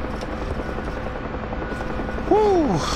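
A UH-1H Huey helicopter in DCS World drones with a steady rotor and engine roar throughout, loud and continuous, with a short falling tone near the end.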